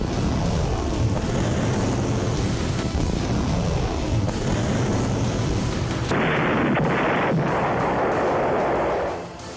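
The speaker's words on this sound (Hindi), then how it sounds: "इजराइल पर बरस रहे रॉकेट बम।" Rockets and bombs strike Israel during a Hezbollah attack, a dense, continuous roar of heavy blasts and rumbling booms that stays loud throughout with no pauses and no voices.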